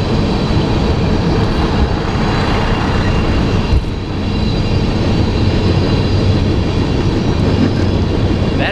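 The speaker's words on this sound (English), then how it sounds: "That is a long train." A long train rolls past close by, a steady loud continuous rumble with rail clatter filling the whole stretch, barely changing as car after car goes by.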